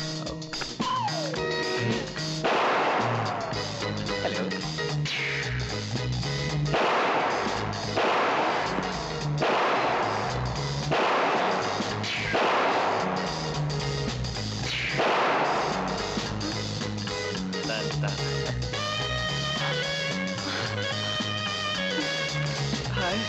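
Repeated gunshots from a rifle during shooting practice, sharp loud cracks spaced a few seconds apart across the stretch, over a steady musical background.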